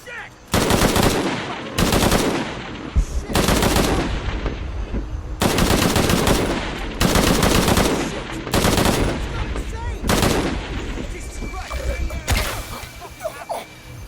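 Shadow of the Tomb Raider game gunfire rings out in loud, rapid automatic bursts, several separate volleys with short gaps between them and a faint tone near the end.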